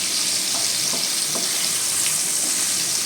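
Prawns fry in oil with a loud, continuous close-up sizzle, an even hissing crackle that stays constant throughout, with faint ticks of spattering and no voices.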